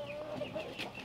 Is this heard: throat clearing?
no